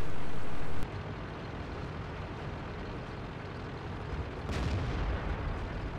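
A tank cannon fires once in a tank video game, a sharp loud blast at the start that cuts off into steady rumbling engine and battlefield noise, with a second swell of rumble later.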